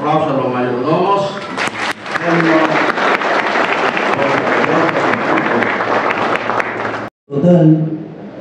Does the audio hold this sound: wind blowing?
no